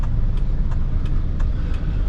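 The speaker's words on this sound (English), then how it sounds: "Bad traffic in Jakarta, definitely bad traffic." Jakarta street traffic in heavy congestion, a continuous low rumble of car and vehicle engines with faint repeated ticking on top, steady and moderately close, no voices.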